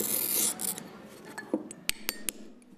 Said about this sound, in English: Whilst we're breaking pieces of glass and putting it down on the mosaic